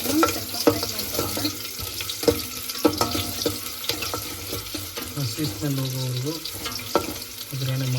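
Fenugreek seeds fry in hot oil for a Sunday fish curry, giving a steady close crackle broken by clinks of a spoon against the pan and some trickling water sounds, with no talking.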